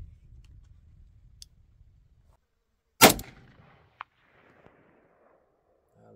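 A single sharp 5.45 rifle shot cracks loudly at a target, followed by a short echoing tail and a faint distant impact tick, with quiet surroundings before and after.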